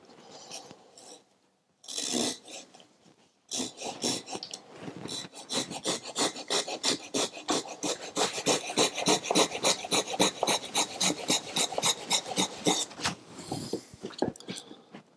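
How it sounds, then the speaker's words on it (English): A knife cuts stop cuts into wood while a spoon crank is carved, with a few scattered scrapes followed by a long run of quick, rhythmic rasping strokes, close and crisp, with no talk. "I'm gonna put a stop cut straight down here, like that, and a stop cut straight down there."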